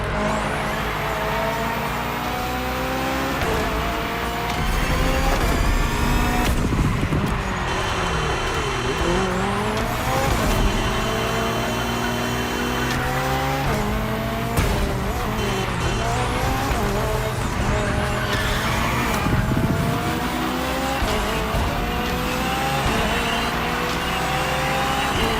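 A hybrid V8 race car in The Crew Motorfest screams through repeated upshifts and downshifts, its engine note rising and falling loudly at close range, with occasional tire squeal and no talking.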